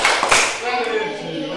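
A class of schoolchildren claps the PPK rhythmic clap, a burst of sharp hand claps near the start followed by a voice in the classroom.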